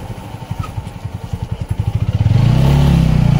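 A motorcycle carrying four riders, its engine thumping in a steady close putter that quickens and then rises into a louder, smoother revving drone as it accelerates, with no voices.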